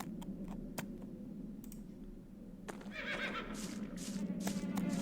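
Faint clicks are followed by a horse's whinny rising and wavering at low volume, with soft thuds and ambient rumble underneath, in the video game The Black Mirror.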